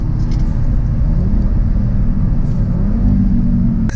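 An Audi RS3 engine rumbles loudly and steadily, a deep continuous drone with a slight rise in pitch, heard from inside the car.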